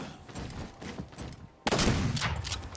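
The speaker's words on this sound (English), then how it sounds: "Shotgun to the face." Shotgun blasts and gunfire in a Halo 4 Flood multiplayer match, a steady rattle of shots that gives way to a sudden, louder burst of fire.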